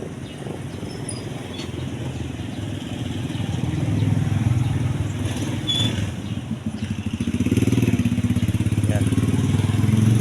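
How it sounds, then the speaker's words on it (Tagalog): A motorcycle passes on a quiet early-morning highway, its engine drone gradually swelling louder and closer, while someone talks briefly over it. "Pati motor madalang ang dumadaan."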